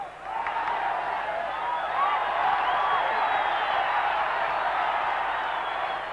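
Football stadium crowd at a 1990 Colombia versus Soviet Union match, a broad sustained roar with rising cheers and whistles, heard from a distance and continuing throughout.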